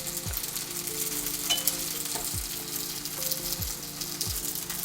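Egg on a rice paper pizza frying in a hot pan, a steady close sizzle and crackle with periodic scraping strokes as it starts to burn, no voices.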